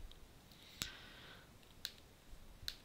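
Mouse clicks on an Apple Mac while saving a Minecraft 1.12 launcher profile: a few sharp, quiet clicks spaced about a second apart over a faint room hiss.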